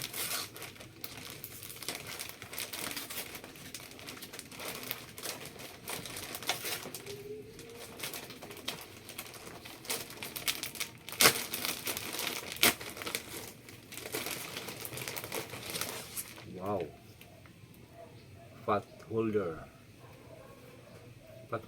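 A package holding a pot holder and mitten set is unwrapped, with plastic crinkling and tearing steadily up close for most of the stretch, then a few sharper rustles near the end as a person talks over it.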